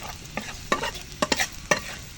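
Silver carp frying in a pan, with several sharp scraping and sizzling bursts from stirring or turning the fish, close and clear, with no talk.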